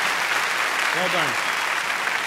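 Applause from a graduation audience at the College of Central Florida carries on steadily for a graduate while a voice briefly speaks over the continuous clapping.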